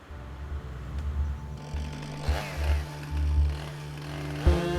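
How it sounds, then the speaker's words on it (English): Chainsaws cut through huge tree trunks at a logging site in a Papuan forest, with a loud, steady engine drone that rises and falls as the saw bites and revs, continuous throughout with sharp surges near the end. "the chainsaws cut huge trunks as easily as ripe bananas"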